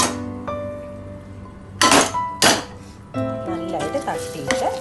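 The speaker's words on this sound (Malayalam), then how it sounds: "അത് കഴിഞ്ഞ് നമ്മൾ കുക്കറിൽ വേവിച്ച് വെച്ചേക്കണം കടല ഇതിനകത്തേട്ട് നമ്മൾ തട്ടിയിടുക." Cooked chickpeas tipped into masala in a pan for kadala curry, then stirred with a metal utensil: a few sharp clinks and scrapes against the pan over a steady low sizzle, close by.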